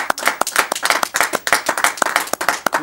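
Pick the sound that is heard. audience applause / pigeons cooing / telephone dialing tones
audience applause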